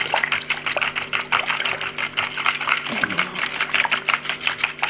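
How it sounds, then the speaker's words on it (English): A whisk beats rapidly against a bowl of thin liquid meatball sauce, a fast steady clatter of rhythmic ticks that carries on alone and close up for the whole stretch. "we're just going to go ahead and whisk this together really well"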